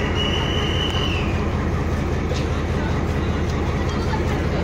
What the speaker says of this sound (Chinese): 真的有列车通过哎